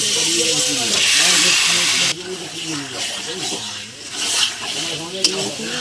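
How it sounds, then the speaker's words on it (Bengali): Mutton pieces dropped into a hot, well-fried spice paste set off a loud, steady sizzling hiss that fills the first two seconds, then settles into quieter crackling as talking carries on over it. "তো এবার আমরা মাংসটা দিয়ে দেবো, খাসির মাংসটা দিয়ে দেবো।"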